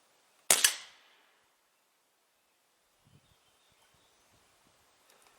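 A custom Crosman 2240 air pistol fires a single sharp, loud crack that decays quickly into near silence, followed by faint scattered rustles and small knocks outdoors.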